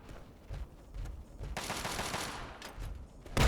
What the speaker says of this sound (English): Mutant with a minigun.